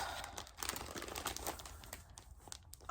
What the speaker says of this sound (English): it's gonna get a little crinkly, sorry